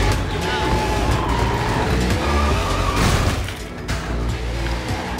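A powerful car driven in the video game Sleeping Dogs, a loud engine roar with tire noise and a brief crash-like burst midway, playing under someone talking throughout.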